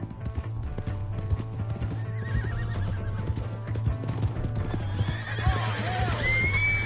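A horse in the western video game Red Dead Redemption 2 gallops with rapid, continuous clip-clopping hooves, then lets out loud whinnies near the end over a low background hum.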